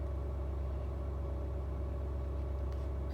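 A 2017 Ford F350 with the 6.7 Powerstroke diesel runs at a steady idle, a low, even rumble droning continuously and quite softly, with no voices.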